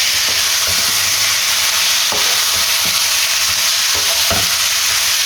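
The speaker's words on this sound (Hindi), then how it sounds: "जब ये लाइट ब्राउन हो जाए तो इसके अंदर ये चिकन ऐड कर देना जिसको हमने मैरिनेट किया था। तो इसको करेंगे मिक्स।" Marinated chicken fries in a pan after going in with lightly browned ingredients, giving a loud, continuous sizzle with a handful of distinct scraping stir strokes spaced through it.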